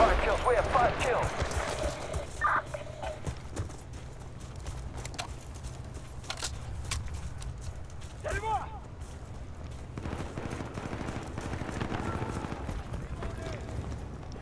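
M14 rifle shots in the Battlefield Bad Company 2 online squad deathmatch, sharp cracks scattered irregularly across a busy battle soundscape, with a player talking over much of it.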